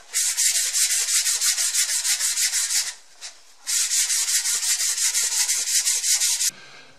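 An axe handle is sanded by hand with 220 grit sandpaper in fast, even back-and-forth strokes, close and loud, with a short pause midway before the steady rasping resumes.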